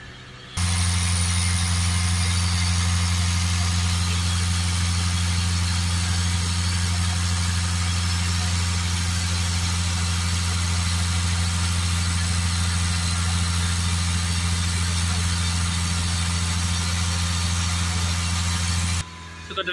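A Land Rover Discovery Sport 2.0 diesel engine runs steadily at about 2,500 rpm during a DPF cleaning, a loud constant droning hum with a low throb, close and unbroken from start to end.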